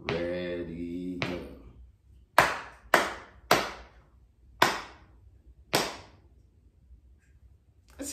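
After a short spoken count, a single person claps a rhythm of six sharp, close hand claps with varied gaps, each ringing briefly in a quiet room.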